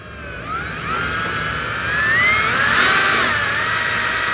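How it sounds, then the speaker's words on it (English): A power drill whines into a palm trunk, a continuous high-pitched motor tone that rises in pitch and strain midway, close and loud, alone with no voices. "I'm going to drill into this palm,"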